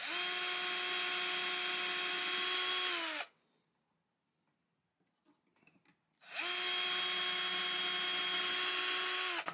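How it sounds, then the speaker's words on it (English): A drill press whines at a steady pitch for about three seconds while drilling holes in a 1950 Silvertone archtop guitar, stops for a quiet pause, then starts up again and runs steadily. "we're going to drill"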